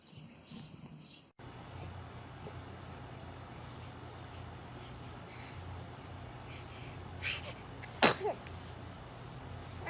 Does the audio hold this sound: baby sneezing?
yes